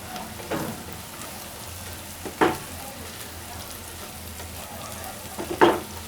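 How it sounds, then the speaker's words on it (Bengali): Noodle masala spices fry in a pan with a steady, rain-like crackle, and a few louder spatula scrapes sound close by; no one speaks. "একটু ভালো করে ভেজে নিতে হবে।"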